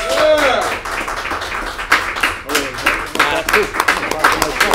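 Audience clapping for guest Mikey Knuckles on a talk show set, a loud burst of scattered hand claps mixed with hosts talking and laughing over it.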